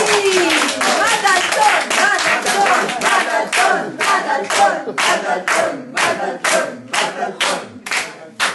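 An audience at a live French stage show applauds loudly and cheers, dense clapping thinning toward a rhythmic unison beat near the end, with voices mixed in.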